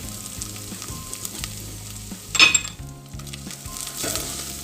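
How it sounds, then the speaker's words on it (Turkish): Tomato paste and spices sizzle and fry in a pan, a steady close crackle with a brief louder burst from stirring partway through and a few faint utensil clinks. "Bir güzel onları önce salça kokusu çıkana kadar kavuracağım"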